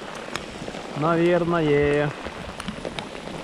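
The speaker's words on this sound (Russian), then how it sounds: "И пошел дождь, пошел дождь." Rain patters steadily on a surface outdoors on a river trip, a soft continuous hiss under a brief spoken word in the middle.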